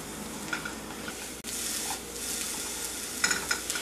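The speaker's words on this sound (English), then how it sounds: "Eggplant absorbs lots of oil. So you may need to add some oil while you're cooking." Eggplant pan-frying in oil, giving a steady close sizzle with light stirring and scraping in the pan throughout, brightening briefly near the end.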